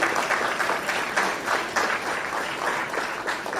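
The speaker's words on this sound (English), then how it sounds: "Let's give him another round of applause" Audience at a schools' sports awards ceremony applauding a presenter, a sustained round of clapping with individual claps standing out in an uneven rhythm, moderately loud.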